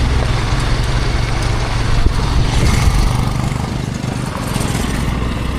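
A Hero Xpulse 200 motorcycle riding along a high mountain road, its engine a loud continuous drone with heavy wind rush, steady throughout and close, no talk.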